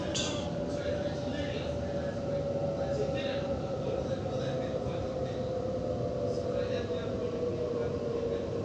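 A commuter train arriving at Birrong station on Sydney's T3 Bankstown Line rumbles steadily close by with a constant low roar and a faint mechanical whine, while a voice speaks quietly beneath the noise.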